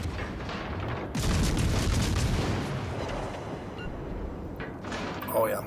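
Warship guns boom in repeated heavy salvos during a World of Warships Legends naval battle, dense rumbling fire filling the scene while a voice talks over it.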